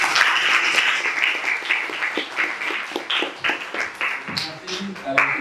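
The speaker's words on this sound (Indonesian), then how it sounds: "Beri tepuk tangan buat kalian semua." Students in an 11th-grade multimedia classroom clap together, a busy spread of hand claps that thins into uneven single claps, with voices chattering underneath throughout.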